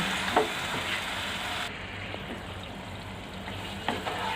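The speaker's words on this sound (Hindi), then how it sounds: "3-4 मिनट मसाले को भून लेंगे चिकन के साथ में" Spice masala frying with chicken pieces in a pan, a steady close sizzle with soft stirring scrapes and occasional light clicks of a spoon.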